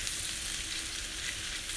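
Steady, bright sizzling of food frying in a pan, close and constant, with no talking.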